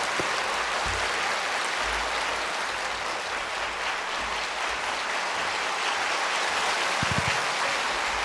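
A church congregation at an autumn revival service applauds as their pastor comes forward, a steady dense wash of clapping filling the hall throughout, with a few low thumps near the end.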